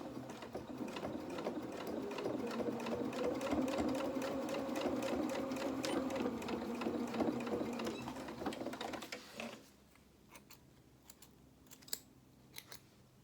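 A sewing machine stitches around the head of a cloth doll, a steady rapid mechanical whirring for about nine seconds before it stops, followed by a few faint clicks and taps, with no talk.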